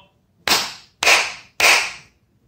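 At a church school worship service, children clap their hands together three times. The sharp, evenly spaced claps in unison each leave a short echo, and the room is otherwise quiet.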